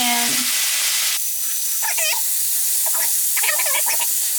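Curry butter sizzles in hot pork chop grease in a pan, a bright, steady hiss running from near the start to the end while someone talks over it.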